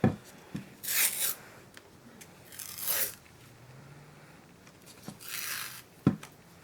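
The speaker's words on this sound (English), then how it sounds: "So I think I'm just gonna have to cut through this to get it out." A knife cuts through hardened clear snow globe Christmas soap to free it from its mold, heard as a few separate scraping, crunching strokes with quiet pauses between them, close and moderately loud.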